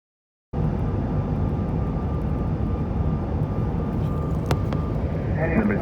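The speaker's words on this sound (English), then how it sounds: "Now let's land." A commercial jet landing at Aspen airport fills the scene with a loud, steady engine and airflow roar that begins abruptly and holds constant, with brief clicks and faint radio-like sounds near the end.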